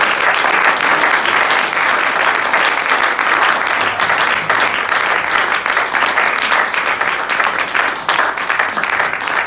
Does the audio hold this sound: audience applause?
yes